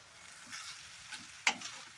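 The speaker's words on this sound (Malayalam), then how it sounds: "ഇനി നമുക്കിത് നല്ലപോലെ മിക്സ് ചെയ്യാം." Fried rice being stirred and mixed in a frying pan: faint close scraping and soft sizzling with a sharp clink of the utensil against the pan near the middle.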